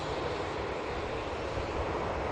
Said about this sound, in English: A319 is going to be coming in from Paris